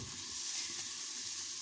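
Potatoes fry with garlic in a pan, a continuous soft sizzle and hiss with faint stirring, steady and close with no talking.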